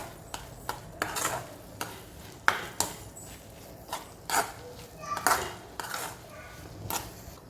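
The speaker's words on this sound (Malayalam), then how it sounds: "ഇനി നന്നായിട്ട് ഇളക്കി കൊടുക്കുക" A spoon stirs a rice flour mixture in a pan for kozhukkatta filling, a run of irregular scraping strokes over a soft sizzle, with voices talking in the background.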